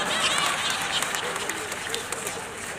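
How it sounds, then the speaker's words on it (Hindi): An audience at a Hindi poetry gathering at Bokaro Club claps in a thick, fading patter while someone talks over it. "आप लोग तालियां बजा रहे"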